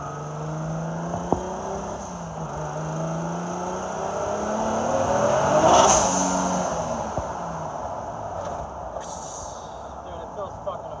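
A Lexus SC300 engine pulls smoothly under throttle after a fuel-delivery fix, a steady drone that swells to a peak mid-clip and then eases, heard from inside the car with a faint whir, no speech.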